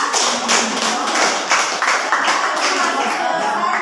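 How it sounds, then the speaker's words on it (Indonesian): A classroom applauds a student, with steady, dense hand clapping from a small group. It is close and loud and keeps going for several seconds, with faint voices mixed in. "Beri aplaus untuk Kela"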